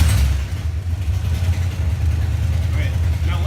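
Low, steady rumble of a drift car engine with a custom exhaust, idling close by with a slight swell of throttle, while people talk over it.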